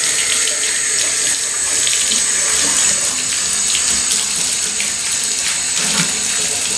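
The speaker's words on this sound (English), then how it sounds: "So I'm going to rinse these" Sneakers are rinsed under a steadily running tap, with loud, continuous splashing water filling the sink throughout and no talking.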